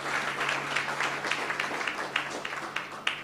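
Congregation applauding the Lord during a Sunday school service at an MMM church in Bonaire, a steady medium-distance patter of many hands clapping over a low hum, with a few sharper individual claps standing out.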